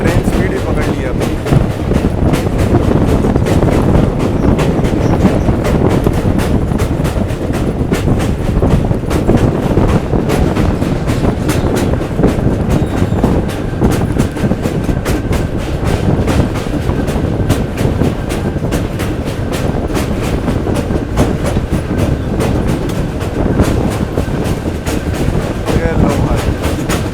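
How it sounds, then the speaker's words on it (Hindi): Kanchanjunga Express (13174, Sabroom–Sealdah) running at speed, with a loud, steady roar of wheels on rails and a continuous rapid clatter, wind buffeting the microphone throughout. "ट्रेन स्पीड भी पकड़ लिया अभी।"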